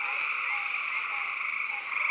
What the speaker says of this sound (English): nighttime brings out a symphony of frogs